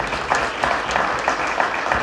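Steady clapping from a soccer banquet audience fills the whole stretch, dense and continuous at moderate loudness, with no voices on top.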